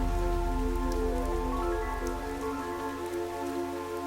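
Rain falls steadily in the video game FANTASIAN Neo Dimension, a constant even wash under a sustained, droning musical tone, with no voices.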